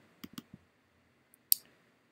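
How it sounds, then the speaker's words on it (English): Computer mouse clicks at a desk: a quick double click followed by a single click, then a sharper double click about a second later, all close, quiet and isolated. "We can double click on them to open them."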